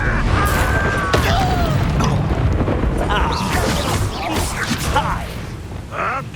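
Confringo blasting spells exploding in Hogwarts Legacy, repeated booming bursts and crashing whooshes amid busy combat noise, with voices heard in the fight.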